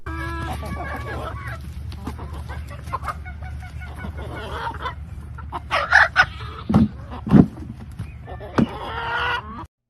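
Chickens cluck and squawk in short bursts, a few sharp calls rising over a quiet farmyard background hum.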